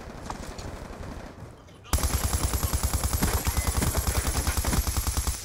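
A light machine gun fires a rapid, steady automatic burst in Black Ops 2, sharp loud shots in an even rhythm lasting several seconds after a quieter lead-in.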